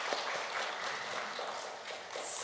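Guests applaud at a bat mitzvah celebration, a steady wash of many hands clapping together throughout, moderately loud with no voices rising above it.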